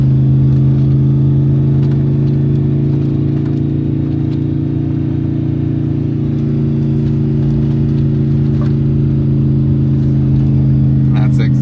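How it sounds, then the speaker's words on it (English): A V8-swapped FZJ80 series Land Cruiser engine holds second gear on a long downhill, giving a loud, steady mid-pitched drone with an even tone and no revving, heard close up. "now it's just holding the gear going down a big hill"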